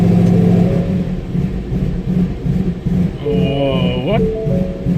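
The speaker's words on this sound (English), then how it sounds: "Ah, the sweet sound of that V8." A V8 car engine idles with a steady, lumpy rumble, then revs up sharply toward the end before settling back, loud and close, with a voice speaking briefly over it.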